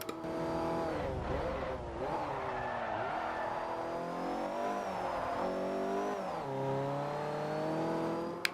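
A race car lapping in a racing video game, its engine whining and revving continuously through shifts and corners, with brief tire squeal, steady and fairly quiet without talk.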